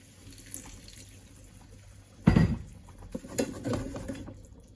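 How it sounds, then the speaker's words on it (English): Water poured from a tap into a pan while cooking steak with peppers, a brief gush that surges suddenly and then continues as softer splashing and trickling at close range. "Okay, I'm actually going to add a little bit more water."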